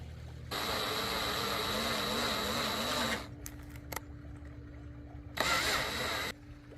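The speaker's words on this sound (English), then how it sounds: "I'm going to drill and tap that, and then we can mount the lamp" A power drill with a 1/8 inch bit whirs into soft metal on a lamp post for a few seconds, stops with a few clicks and taps, then whirs again briefly; close and fairly steady.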